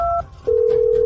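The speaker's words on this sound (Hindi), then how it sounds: "दोबारा फोन मिला के देखता हूँ" Telephone being dialed, a short dual-tone keypad beep followed by a steady tone, loud and close with no talking.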